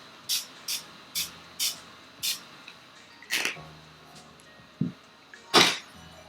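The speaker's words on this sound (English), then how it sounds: "I'm gonna spray my face again with the matte" Matte setting spray mists onto a face in a quick series of short, close hisses, five evenly spaced puffs followed by a few more irregular sprays with brief pauses between.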